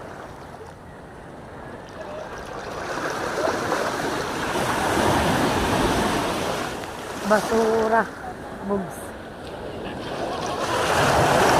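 Sea waves wash and rumble steadily at close range under gusting wind noise, with brief spoken words partway through and a few sharp knocks.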